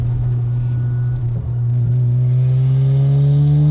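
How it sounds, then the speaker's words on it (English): A 400 hp turbocharged rotary Mazda FC RX-7 engine drones and climbs in pitch as it accelerates, with a rushing whoosh of turbo boost heard through the firewall from inside the cabin. "you hear the turbo actually so loud through the firewall here in the front"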